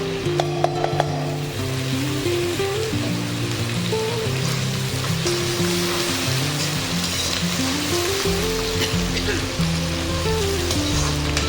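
Onions and chilli frying in hot oil in a pan, a loud, continuous close-up sizzle that runs steadily throughout, with a few faint utensil taps near the start and no speech.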